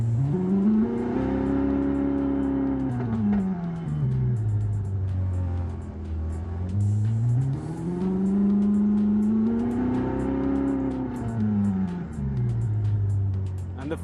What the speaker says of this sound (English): Select the vehicle sound that you like. It could be a Ferrari too.